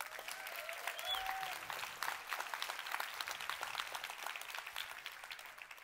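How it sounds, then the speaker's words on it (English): An audience gives a round of applause for Code for America fellows, dense continuous clapping heard from some distance and fairly faint, swelling slightly and holding steady throughout. "Can we have a round of applause for our awesome fellows?"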